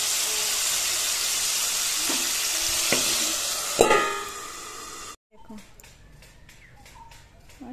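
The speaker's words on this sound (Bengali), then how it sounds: "এখন কড়াই আবার অল্প তেল দিয়ে এখন শাকটা রান্না করে নেব" Bottle gourd greens frying in a little oil in a wok, a steady loud sizzle with a few clanks of stirring, then the cooking noise cuts off abruptly and quieter background sounds follow.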